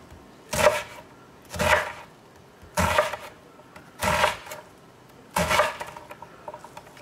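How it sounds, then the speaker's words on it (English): A knife chops an onion on a cutting board for a meatball pasta sauce, in five distinct bursts of rapid cuts about a second apart, each loud and close with quiet gaps between. "let's get this onion going. And for our sauce, you always got to have an onion. This guy chopped."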